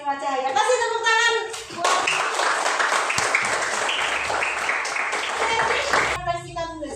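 Schoolchildren in a classroom break into loud, close, dense applause after a lesson on the properties of light, framed by a voice speaking just before and after.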